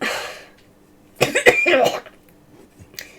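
A voice imitates a wet, sputtering cough of someone coughing up water, a short burst of harsh hacking and gurgling, close and fairly loud.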